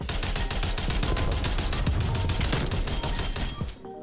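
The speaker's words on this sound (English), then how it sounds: "I'm just spraying and praying with this DMR at this point, bro." Rapid, steady bursts of DMR-14 rifle fire from the Black Ops Cold War video game, loud and close, with sharp repeated shots packed densely for about three and a half seconds before cutting off abruptly.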